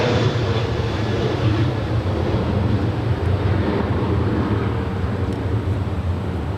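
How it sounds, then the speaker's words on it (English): A SkyWest Embraer E175 jet airliner arrives at LAX, heard as a loud, steady, broadband roar of jet engines that continues unbroken throughout. "It's an Embraer E175."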